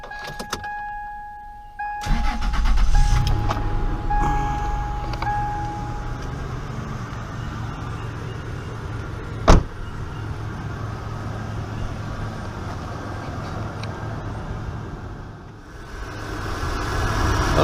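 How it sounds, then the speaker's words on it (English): A truck engine cranks over after a quiet moment and settles into a steady, close-up run with a low rumble, one sharp click partway through, and no talking. "let me go ahead and crank her up so you can hear the motor run."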